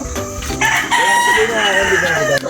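A rooster crows loudly and close by, one long drawn-out call lasting most of the moment, with brief voices before it.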